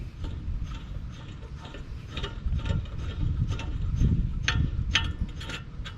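A coilover collar is spun by hand onto a threaded bolt, making close, quiet metallic clicks and ratcheting ticks in an uneven rhythm over a low rumble, with no one talking.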